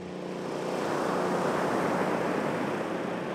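Ocean surf breaking on a beach in the intertidal zone, a loud, continuous wash of waves that builds and holds steady with some wind rumble, no voices.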